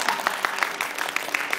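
A street-performance crowd applauds at a juggling act, a fairly faint, steady patter of many hands clapping with a few sharper individual claps standing out.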